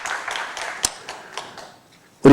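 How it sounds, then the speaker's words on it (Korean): A church congregation claps in praise to God: a handful of separate, echoing claps ring out in a reverberant hall, thinning out before a sudden loud noise at the very end. "우리 하나님께 영광의 박수를 돌립니다"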